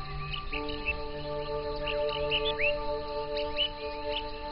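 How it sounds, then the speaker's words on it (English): Distant birds chirp in short scattered calls at sunrise on a mountain near the Shaoguan canyon, faint over a steady background hum. "all you can hear are the sounds of your own footsteps and the birds chirping in the distance"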